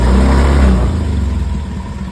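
Honda Beat Fi V2 scooter engine with a faulty throttle position sensor, revving loud and close as the throttle is blipped, then falling back to a rough, pulsing idle.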